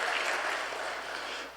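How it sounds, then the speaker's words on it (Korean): Brief warm applause from a church congregation during a Sunday service, honouring the teachers of the church's work school; dense clapping that fades away within about a second and a half. "격려의 박수 한번 보내주시기 바랍니다"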